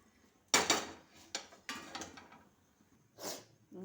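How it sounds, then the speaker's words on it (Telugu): Roasted coriander seeds poured from a pan into another bowl in a home kitchen, making a few short rattling, clattering bursts of dry seeds and vessel contact, close and moderately loud with pauses between. "తీసి వేరే గిన్నెలో పోస్తున్నాను"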